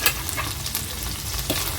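A masala of mashed tomato, green chilli, chilli powder and turmeric for egg kurma is stirred in a pan, giving continuous close sizzling with soft scraping strokes and no talk.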